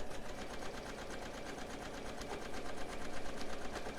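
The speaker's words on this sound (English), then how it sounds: "stitching on that exact line between the red and the cream." A sewing machine runs steadily as it quilts decorative stitches along a seam line between red and cream fabric on a Christmas advent calendar panel, giving a fast, even, rhythmic whir of needle strokes with no talking.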